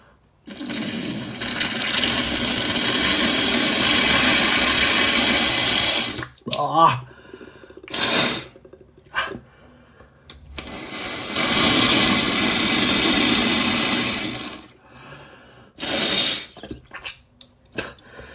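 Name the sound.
rinsing nostril with salt and baking soda water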